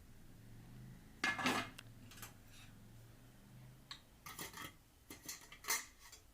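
A stovetop cooker is opened after baking a biscuit cake, with scattered metallic clinks and clatters of lid and pan, quiet and spaced out, with no talk.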